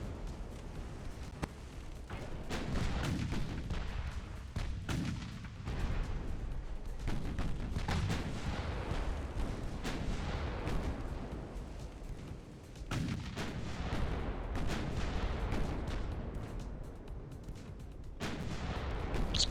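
Naval guns fire repeatedly in the warship game Ultimate Admiral Dreadnoughts, with heavy booming blasts at irregular intervals over a constant rumbling battle background and no voices.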